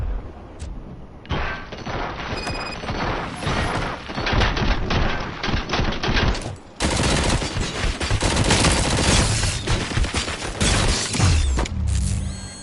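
Dense gunfire in the RoboCop: Rogue City video game: rapid bursts and single heavy shots crowd the scene with mechanical clatter, loud and close, pausing briefly midway before another sustained volley.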